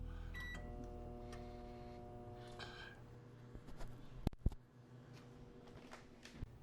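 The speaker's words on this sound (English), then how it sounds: "So here they are going into the microwave. And I set it for 6 minutes to start." A microwave oven runs with a steady electrical hum and a faint tonal whine, broken near the end by a few sharp clicks and thumps close by.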